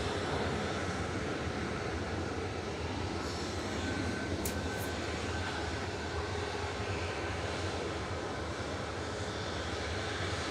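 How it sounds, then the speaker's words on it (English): A Jet2 Boeing 737-800 takes off from Manchester Airport, its engines producing a steady, broad roar that holds loud and even from start to finish. "Lined up and ready to go first though with JZBL of Jet2, 737-800 with flight"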